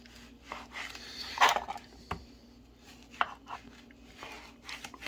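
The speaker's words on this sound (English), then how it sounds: "I'm going to cut them into slices" A knife cuts cantaloupe into slices on a board, with a few crisp chopping knocks, one sharper clack near the middle, and quiet scraping in between, close and fairly soft with no talk.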